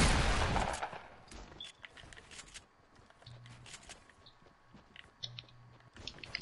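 Gunfire in a PC shooter game during a solo match comes as scattered sharp bursts and clicky shots, some rapid volleys, moderately close over a busy background with faint interface tones.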